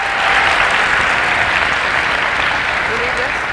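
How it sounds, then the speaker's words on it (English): A large audience welcomes a speaker with loud, sustained applause, a thick wash of clapping with faint cheers and voices mixed in throughout. "let's give Mr. Vujicic, Nick, a big round of applause and welcome him."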